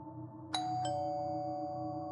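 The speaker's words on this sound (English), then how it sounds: "Then, the doorbell rang again." A doorbell chimes twice, two bright tones in close succession whose ring lingers and fades over a low background hum.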